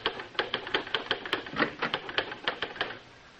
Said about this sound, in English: working at the typewriter in his study